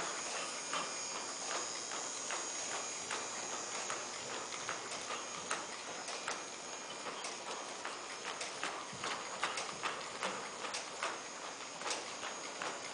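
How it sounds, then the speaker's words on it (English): A ridden horse trots along a rail, its hooves clip-clopping in a steady, even rhythm at moderate distance with faint background noise. "She'll be trotting for a while."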